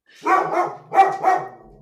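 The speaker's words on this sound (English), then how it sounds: "Vicious dog coming after you." A dog barks four times in quick succession, close and loud, in two paired bursts with no talking.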